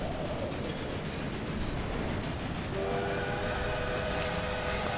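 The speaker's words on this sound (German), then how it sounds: "Da kommt der Zug vom Wright Landgut." An arriving steam train in the game Railway Empire gives a steady rumble of rolling wagons, then a sustained whistle joins in partway through, loud and close with no talk.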